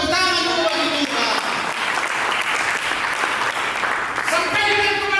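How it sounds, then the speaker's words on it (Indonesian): A church congregation claps for God during a sermon, a dense, steady wash of applause filling the whole stretch, with voices and singing tones rising through it near the start and end. "Berikan tepuk tangan bagi Tuhan."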